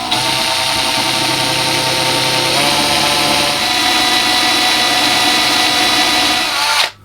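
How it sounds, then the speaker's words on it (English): A power drill runs continuously, boring holes in small parts for an OO-scale narrow gauge model railway siding, with a steady high whine that holds for about seven seconds before cutting off abruptly at the end. "we'll drill some holes in these"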